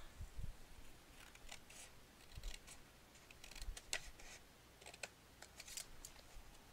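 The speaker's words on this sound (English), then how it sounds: "I'm going to cut this flap off." Scissors snip through a paper flap on a homemade paper album, a run of faint, quiet crisp cuts and light paper rustles spread across the stretch with no talking.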